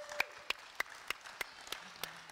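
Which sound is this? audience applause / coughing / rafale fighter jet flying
audience applause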